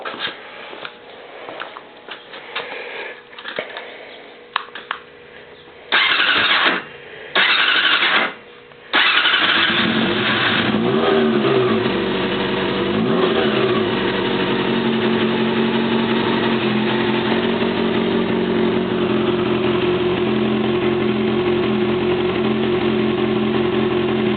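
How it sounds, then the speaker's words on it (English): A 1988 Honda CBR600 Hurricane motorcycle on a cold day cranks with a few stuttering bursts, catches, and settles into a steady, close, loud carbureted idle that runs on alone. "let me fire it up here."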